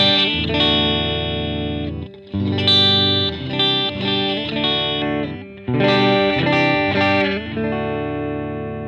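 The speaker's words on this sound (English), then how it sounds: "that's me switching back and forth between the neck and middle position" An electric guitar is played through effects while switching back and forth between the neck and middle pickup positions. Sustained distorted chords ring out loud and close, broken by short gaps where the tone changes.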